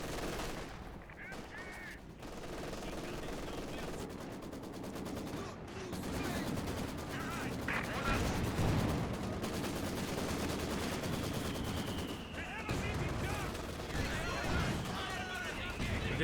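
Maxim machine gun fire in a Company of Heroes 2 battle, with steady bursts of gunfire crackling through a dense mix of combat noise while a voice talks over it throughout.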